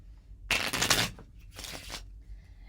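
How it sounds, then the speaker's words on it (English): Playing cards shuffled for a game of Golf, two quick riffling bursts close up, the first longer and louder, the second shorter and softer, in a quiet room. "we're going to shuffle up our cards"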